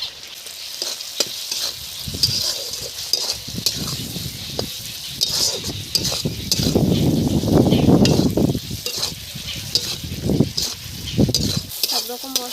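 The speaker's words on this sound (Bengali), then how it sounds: "সব রকম মশলা খুব সুন্দর করে ভেজে নিয়েছি।" Spices, chilli powder, turmeric and salt frying in a pan for a homestyle rui fish kalia, a steady close sizzle with stirring scrapes and bursts of crackle throughout.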